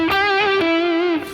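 Electric guitar played through a distortion effect: one sustained, buzzy distorted note held for about a second with a brief pick attack near the start, loud and close, alone.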